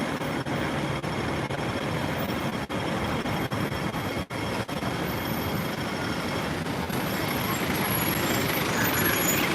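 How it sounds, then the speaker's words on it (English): An old gas-powered double-decker bus on a hot Hong Kong street makes a loud, steady engine rumble with traffic noise around it and a few sharp knocks. "And it's definitely a gas bus."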